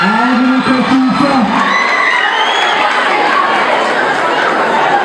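A loud, dense crowd cheers and shouts close by, with high children's voices and whoops in a continuous roar and chatter running underneath.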